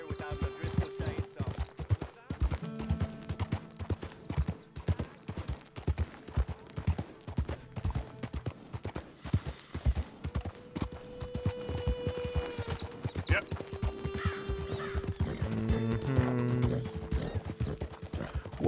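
Horse hooves clop and pound in a steady galloping rhythm in Red Dead Redemption 2, with tack and gear rattling, a brief tonal hum over the hoofbeats, and the gait building louder toward the end.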